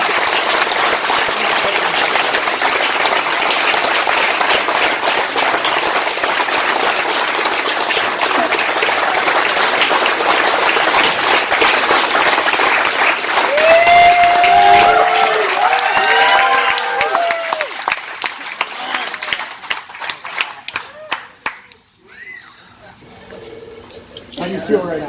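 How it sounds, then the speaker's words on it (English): Crowd at a veterans' motorcycle giveaway breaks into loud, sustained applause and cheering close by, with a whistle and shouts rising in the middle before the clapping thins out and fades near the end. "Give this girl right here a round of applause"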